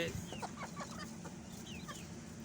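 Chickens cluck softly in short, repeated bursts over a steady low background hum.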